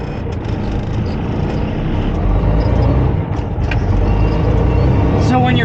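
Semi truck with an 18-speed manual transmission pulling off slowly and shifting up through its low gears, a loud close diesel rumble inside the cab with brief pauses at shifts, while someone talks throughout.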